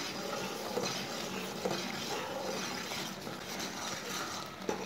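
A spoon stirs peach jam cooking in a pot, giving soft scraping and light clinks over a steady bubbling simmer, with a few sharper taps against the pot's side.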